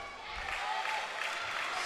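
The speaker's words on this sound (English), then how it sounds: "The crowd goes up as Levy's been pinged for an obstruction" At a men's netball match between Queensland and Victoria, a crowd briefly roars and murmurs in reaction to an obstruction call, a short, moderately distant swell of voices and some clapping.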